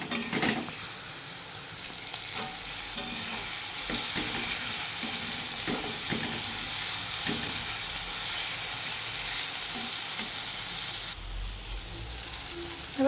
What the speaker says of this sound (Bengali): কারণ আদা আর টমেটো একসঙ্গে দিলে ভালো করে ভাজা হয়।